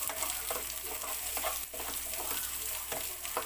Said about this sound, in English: chopped onion. This is 1 onion. And we just saute this until it gets translucent.